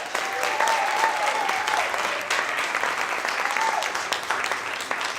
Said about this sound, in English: Give a warm round of applause for Yvonne Healy